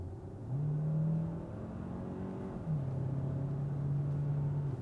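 A 2024 Hyundai Santa Fe Limited Hybrid SUV engine hums steadily and rises in pitch as it accelerates, with a smooth, moderate revving tone throughout and no talking.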